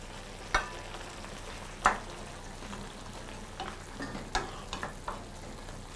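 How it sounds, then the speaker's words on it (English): Vegetables cook in a pan, giving a faint steady sizzle broken by a few sharp utensil clicks and taps against the pan, quiet and with no voices. "just allow the vegetables to just cook for a short time so that we maintain, all the nutrients"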